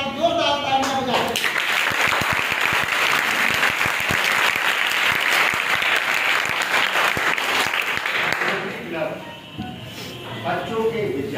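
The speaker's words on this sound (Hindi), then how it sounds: "छात्रों से पुनः अनुरोध है एक बार जोरदार तालियां बजाएं।" Loud, sustained applause from a crowd of students at a school event, dense and even for most of the stretch before thinning out, with voices heard briefly at the start and again at the end.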